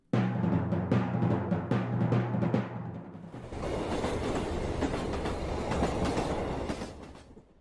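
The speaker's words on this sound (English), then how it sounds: "He boarded a train for Skeleton Bay" A train sound effect in a radio drama: the train rolls along the rails with a deep engine hum, then rhythmic clattering wheels and a loud, steady rushing rumble as it passes close by.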